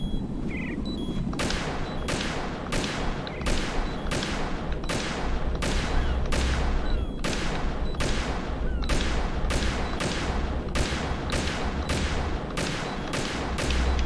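In Metal Gear Solid 2: Substance, a long series of heavy gunshots fires in a regular rhythm, each blast sharp and booming, about fifteen in a row after a short quiet lead-in.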